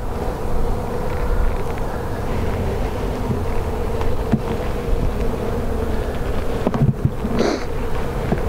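Honey bees buzz continuously and densely close by, a steady droning hum with no talking.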